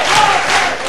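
A wrestling arena crowd cheers and roars loudly, a thick, steady wall of voices from a packed hall filling the whole moment.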